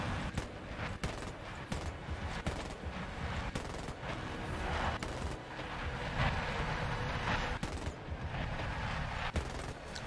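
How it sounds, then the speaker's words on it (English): A jet's machine guns rattle in sustained rapid bursts in a combat flight video game, dense and continuous over engine roar, with no talk. "Trying to hit him with my guns, but he's a bit too far."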